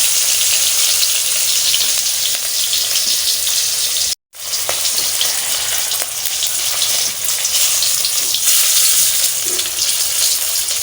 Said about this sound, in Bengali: একটা মাছ আমি ভাজা করে নিচ্ছি